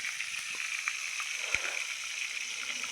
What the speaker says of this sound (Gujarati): અને આ ડુંગળી નાખીને આપણે પહેલાં વઘારી નાખીએ